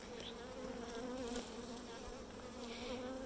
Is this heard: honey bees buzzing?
yes